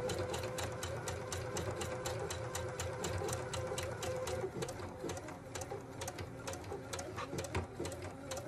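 A regular domestic sewing machine sews a blind-stitch hem on pants, running steadily with a rapid, even clatter and motor hum, close and fairly quiet throughout.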